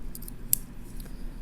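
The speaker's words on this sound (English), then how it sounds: "Little tiny scissors." The tiny scissors of a Leatherman Squirt PS4 multi-tool are opened, making a few faint, light metallic clicks and snaps close by against a quiet background.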